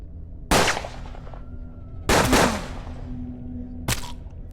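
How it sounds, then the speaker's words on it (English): Revolver fanning shots in the Western tactics video game Hard West: three loud, sharp gunfire bursts spaced well apart, each with a rattling tail that fades, with no talking over them. "let's get you to do a fanning shot into this guy"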